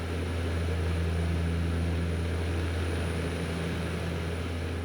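A light propeller aircraft drones steadily in flight over Yaguas National Park, a loud continuous engine hum with a constant low pitch and no pauses, recorded from aboard the plane.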